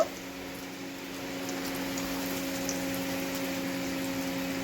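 Egg devil chops fry in hot oil over low-medium heat, two or three at a time. A steady, soft bubbling hiss runs throughout at a moderate level, with no talking.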